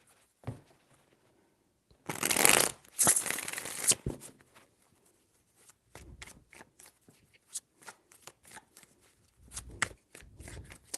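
Tarot cards shuffled by hand in a loud riffling burst lasting about two seconds, then a string of softer taps, flicks and slides as the deck is handled, with brief low thumps near the end.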